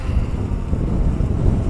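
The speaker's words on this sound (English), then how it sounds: "That's how windy it is here." Strong, extreme wind blowing steadily across the microphone outdoors while a DJI Mavic Air 2 drone is flown, a loud continuous low rumble and buffeting with no pauses and no voices.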